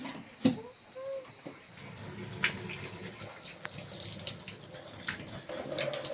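Water running from a household tap into a sink while a child washes her hands, a soft steady flow with occasional splashes and clatters, fairly close.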